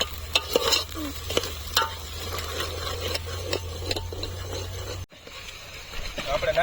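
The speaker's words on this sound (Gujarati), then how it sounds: "જોઈ શકો છો હવે નાખ્યા મરચા અને એના પછી નાખ્યું ટમેટા." Green chilies and tomatoes frying in a pan for a garlic curry cooked at a farm, with a close sizzle and irregular stirring clacks, a voice talking over parts of it and a brief dropout near the end.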